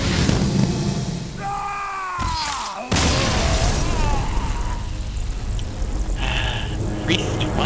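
A Holy Fire spell effect in the Hearthstone card game, with a bright whooshing, crackling burst rising then dropping in pitch, a sharp impact near the middle, and a busy, continuous game soundscape; a voice speaks over it.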